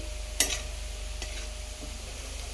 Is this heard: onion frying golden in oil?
yes